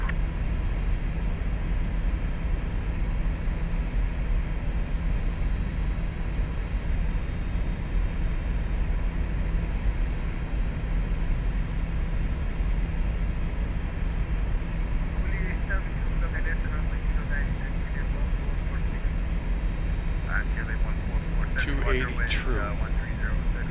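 Cessna Citation II jet spooling up for takeoff from runway 15 at Sarasota in the X-Plane 11 flight simulator, a steady broadband engine roar holding throughout at constant loudness.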